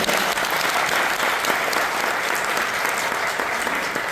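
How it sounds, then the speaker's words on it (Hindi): A crowd at a training event in Jaipur claps steadily and loudly, dense applause sustained for the whole few seconds. "तालियां बजाओ भीषण सर के लिए।"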